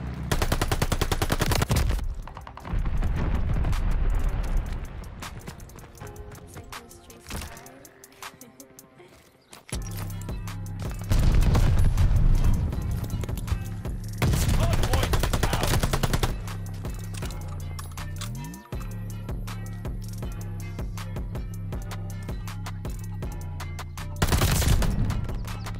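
Rapid automatic gunfire in Call of Duty: Vanguard Hardpoint multiplayer, loud sustained bursts of machine-gun and rifle fire with booming low impacts and brief lulls between volleys.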